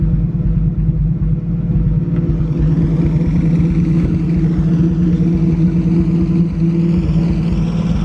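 A pre-war car engine idles on partial choke, a screwdriver wedged in the carburettor, giving a loud, close, even rumble with a steady low throb that holds without revving.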